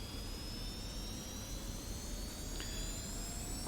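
Jet engine of an F-86F Sabre in a flight sim game roars steadily during takeoff, a loud continuous rumble with a rising whine held throughout.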